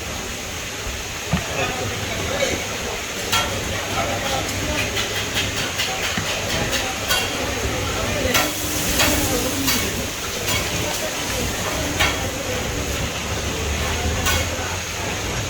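Food fries in hot oil with a continuous sizzling hiss and scattered crackles, while voices talk intermittently nearby.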